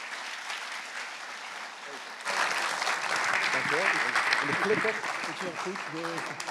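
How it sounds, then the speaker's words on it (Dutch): An audience at a Donar event applauds for Ton Boot, a soft patter that swells into louder sustained clapping, with a voice talking over the later part. "Graag uw applaus voor Ton Boot"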